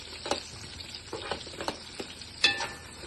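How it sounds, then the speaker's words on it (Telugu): Pieces of bottle gourd dropped into a hot pan for a lentil stew, giving a few separate sizzling bursts and soft clatters at intervals, close by with no talking. "ఇప్పుడు ఈ సొరకాయ ముక్కలు వేస్తున్నాము"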